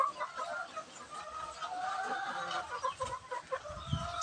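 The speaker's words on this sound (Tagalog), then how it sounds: "Pure na native na manok." Native chickens cluck and murmur softly nearby, a steady stream of short calls with a brief lower rustle near the end.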